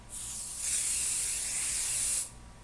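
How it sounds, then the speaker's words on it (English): A steady hairspray aerosol hisses for about two seconds, close and fairly loud, then cuts off sharply. "So you take your hairspray"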